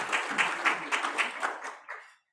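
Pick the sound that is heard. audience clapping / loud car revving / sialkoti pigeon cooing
audience clapping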